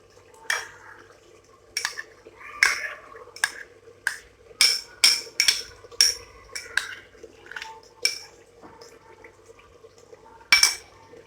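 A spoon stirs fresh cream into cooked mutton in a metal pot, giving a steady run of sharp clinks and scrapes against the pot, close and moderately loud, with no talking.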